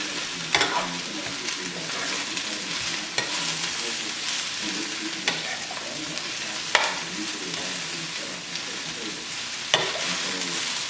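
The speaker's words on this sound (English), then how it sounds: "you want to continue to turn this around continuously so that the onions and the cabbage will mix together" Cabbage and onions frying in a pan are stirred continuously, a steady loud sizzle broken by periodic scraping strokes of the utensil, with no talking.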